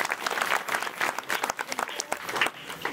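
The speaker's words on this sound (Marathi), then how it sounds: "टाळ्या वाजवा या पूर्वी" Audience at a primary school's annual gathering claps in a steady, dense round of applause, many hands beating close together with a lively crackling texture, fairly near and sustained throughout.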